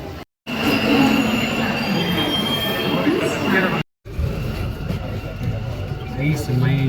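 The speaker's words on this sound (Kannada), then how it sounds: "ನಾವೀಗ ಮೆಟ್ರೋ ಸ್ಟೇಷನಲ್ಲಿದ್ದೇವೆ, ಮೆಟ್ರೋಗೆ ಬಂದಿದ್ದೇವೆ." Metro train at a Green Line station of the Bangalore metro: a steady loud rumble with high squealing tones runs throughout, broken by two brief silent gaps, while people talk over it.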